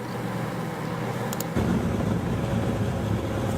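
A Toyota Supra with a 67mm turbo races a modded Suzuki Gixxer 750 motorcycle, a constant close engine drone that steps up suddenly in loudness and stays strong, with no voices.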